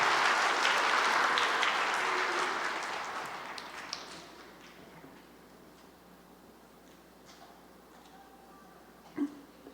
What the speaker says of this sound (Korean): 우리 박수로 한번 맞이해 주시죠.